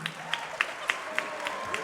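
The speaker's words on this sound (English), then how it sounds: "one more big round of applause for everyone who made this possible today" Applause from a concert audience at an event venue, a moderate steady wash of many hands with several distinct nearby claps spaced about every third of a second.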